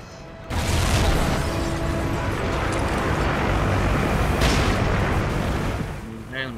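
Call of Duty Ghosts gameplay with a loud, dense wash of booming explosions and gunfire, rumbling continuously at close range without pause for several seconds.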